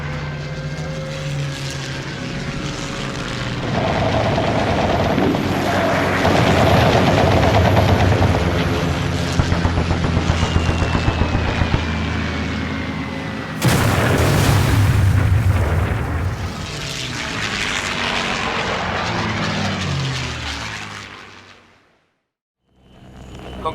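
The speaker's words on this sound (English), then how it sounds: "Here come our Spitfires." Spitfire fighter aircraft engines roaring through a dogfight in a theatre sound effect, loud droning propeller engines swelling and passing with a sharp burst and rattling gunfire before fading to silence near the end.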